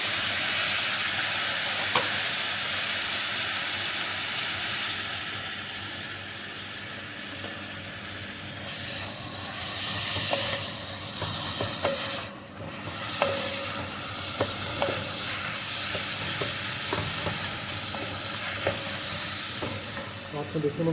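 Tomatoes fry and are stirred into a pan of fenugreek with mixed vegetables, potatoes, peas and carrots, giving a steady loud sizzle and hiss with scraping spoon strokes and occasional clinks, with no talk over it.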